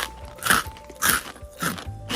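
Crunchy bites and chewing of a raspberry-flavoured snack sound up close, with several sharp crackling crunches spaced about half a second apart and no speech.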